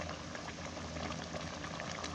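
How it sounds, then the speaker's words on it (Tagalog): Coconut milk bubbles and simmers steadily in a pot with chicken and pineapple, a soft continuous gurgling with no voices. "Kumukulo na yung gata niya."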